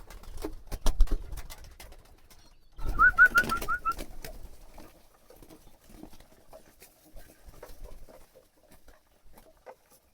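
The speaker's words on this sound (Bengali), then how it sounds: "কবুতরগুলো অনেক লাফালাফি করতেছে" Scattered pattering and fluttering of hungry pigeons jumping around at feeding close by, with a brief burst of wingbeats and soft coos, then lighter scuffling pecks fading out.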